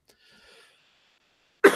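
A single sharp, loud cough bursts out at the end after a quiet stretch with faint background sounds.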